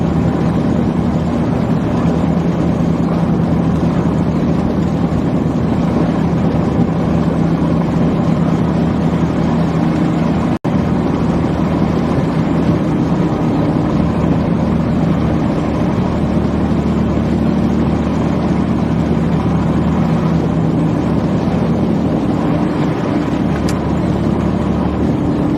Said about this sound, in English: I'm driving a 2013 Ford Explorer.